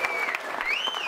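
Studio audience on a rugby magazine show applauding a guest, a brief dense burst of clapping and cheering with a whistle rising over it, moderately loud.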